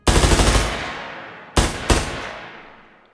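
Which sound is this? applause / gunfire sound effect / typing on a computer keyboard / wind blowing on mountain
gunfire sound effect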